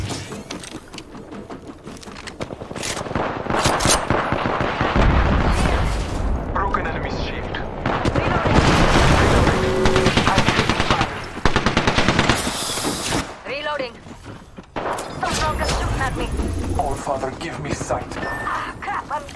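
Apex Legends match with dense, loud bursts of automatic gunfire and heavy impacts running throughout, mixed with frequent excited talk over the shooting.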